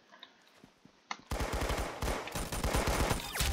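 Rapid automatic gunfire in the Roblox game Arsenal bursts in after a quiet start, a dense, loud, continuous stream of shots that runs to the end.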